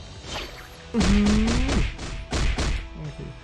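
Moon Knight's second skill in the mobile game Marvel Future Fight: a run of heavy thuds and smashing hits layered with whooshes and a rising synthetic tone, loud and close, in two bursts with no talking.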